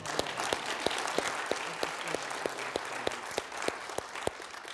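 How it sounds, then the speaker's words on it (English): Church congregation applauding together in a steady rhythmic clap, evenly spaced sharp beats over a bed of scattered clapping, moderately loud and close, with no talk. "all right, we can drop our hands and clap one time, all right?"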